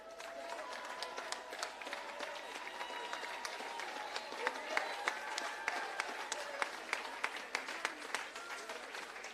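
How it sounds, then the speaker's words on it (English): Indoor audience at a civil service long service awards ceremony claps steadily for award recipients, a dense patter of many hands with a few louder individual claps. "Give them another special round of applause, please."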